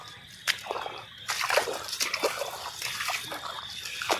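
Rainwater sloshing and splashing in a flooded potato field, several close irregular splashes and trickles after a single early splash, moderately loud with no talk.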